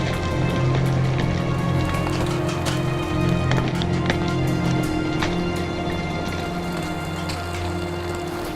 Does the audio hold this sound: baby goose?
no